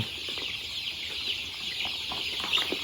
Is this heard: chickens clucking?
yes